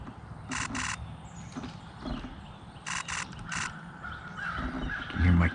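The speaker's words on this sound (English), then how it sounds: "You can hear my camera going off." A camera shutter fires in quick bursts of clicks, two short clusters close to the mic, over a faint outdoor woodland background.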